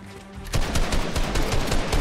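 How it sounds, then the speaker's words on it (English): A pistol fires in a Fortnite match. After a brief quiet lead-in, a dense rapid burst of loud, sharp shots runs without a break to the end, with no talking. "He killed me with the pistol."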